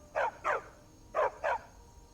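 A dog barks in the Skyrim video game, four sharp mid-pitched barks in two quick pairs separated by a short pause. The barks are clear and moderately close over a quiet background.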